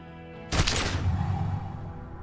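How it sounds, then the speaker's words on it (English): A single loud gunshot blast in Disco Elysium, erupting with sharp force and a rumbling tail that decays over the next second and a half, heard alone without speech. "A plume of smoke and fire erupts from the gun, and your hand goes numb from the explosion"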